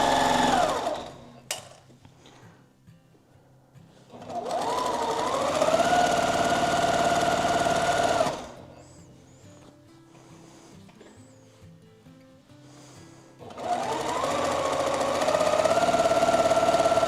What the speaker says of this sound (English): the sewing is the fastest part, especially with this machine that loves to go fast